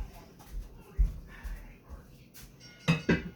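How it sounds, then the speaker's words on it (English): A mixing bowl set down in a kitchen sink while baking corn bread and banana bread, giving a few sharp clinks and knocks of dishware, close and moderately loud, with a brief bump midway and a pair of clatters near the end. "I'll put this bowl in the sink"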